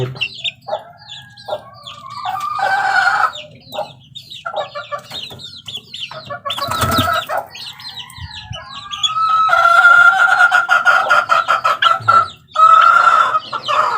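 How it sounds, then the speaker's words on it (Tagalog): Chickens and chicks cluck, chirp and squawk busily at close range while being caught, with a rooster crowing among the flurry of bird calls and bursts of flapping commotion. "Tapos dadakip tayo guys ng sisiw."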